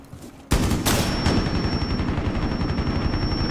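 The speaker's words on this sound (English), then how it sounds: "You hear all these gunshots?" Gunfire in the video game Rainbow Six Siege: loud rapid automatic bursts start abruptly and continue as dense, sustained shooting with sharp individual cracks, close and intense.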